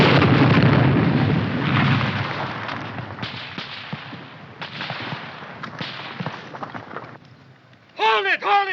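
Gunfire and explosions from a 1951 war film battle: dense bursts and rattling shots fading into scattered cracks, then a short break before shouting voices at the end.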